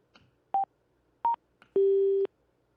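Two short electronic beeps at slightly different pitches, followed by one longer, lower tone, all crisp and close against near silence, from a motorcycle intercom in pairing mode.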